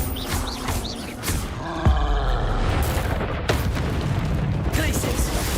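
Hogwarts Legacy spellcasting in a duel, a dense wash of magical whooshes and booming impacts with a sharp low thud near two seconds, followed by continuous roaring bursts and crackles throughout.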